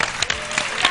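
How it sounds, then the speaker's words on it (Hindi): Brief applause follows a dance performance on a morning television show, a short patter of claps with a few sharp individual hits, moderately loud. "बहुत सारी तालियां"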